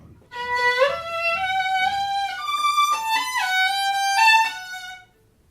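A single instrument plays a melodic line with notes sliding smoothly up and down between pitches, clear and close, with no talking.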